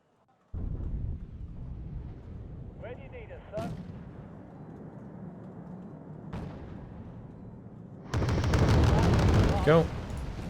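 Bombing strikes in the Cold War strategy game Wargame: Red Dragon, set during a 1992 Second Korean War campaign: a low rumbling battlefield bed with a few sharp isolated blasts, then a louder burst of explosions near the end, with a voice talking over parts.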